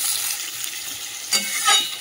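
Onion and potato fry in a pan with a steady close sizzle, broken by two brief louder bursts of hiss.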